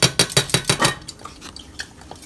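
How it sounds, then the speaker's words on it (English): Dishes are washed at a kitchen sink, with about six sharp clinks of plates and cutlery in quick rhythm. Softer scattered clatter follows as the clinking trails off. "washing the dishes"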